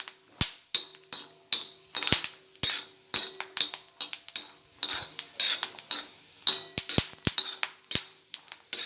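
Peanuts frying in a pan over a medium gas flame are stirred with a metal utensil, making repeated sharp scraping clacks in an uneven rhythm over a faint sizzle, close and clear with no talking.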